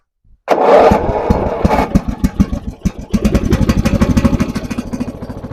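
A Naja ride-on lawn mower tractor engine cranks and catches with a loud burst, then settles into a steady, close idle with an even, rapid putter.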